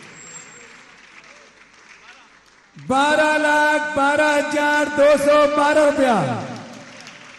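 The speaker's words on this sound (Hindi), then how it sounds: "एक बार जोरदार ताली बजाएं इनके सम्मान में" An audience at a Jain religious discourse by a monk breaks into loud, sustained applause for about three seconds, over and between someone speaking through an amplified microphone, before the clapping fades out.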